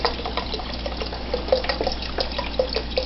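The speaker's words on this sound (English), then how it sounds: "So you got a big ass pot of boiling water, and we're going to put in the chicken stock." Chicken stock pours steadily into a big pot of boiling water, a continuous close liquid splashing and gurgling with small drips, no voices.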